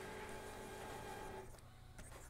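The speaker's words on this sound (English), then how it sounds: "I don't like the sound of that printer." A printer running faintly in a home workspace, its steady mechanical whir carrying a tonal hum that cuts off partway, followed by quieter clicks.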